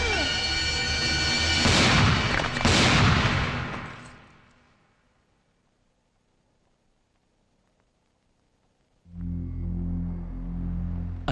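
Gunfire in a courtroom scene from a Kannada film: two loud, sharp blasts in quick succession with a ringing tail that fades to near silence, before a low tonal sound swells back in.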